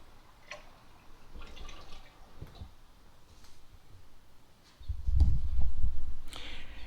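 Engine oil draining from a 2012 Ford Focus into a container, with scattered soft drips and ticks, then a louder low rumbling patch toward the end.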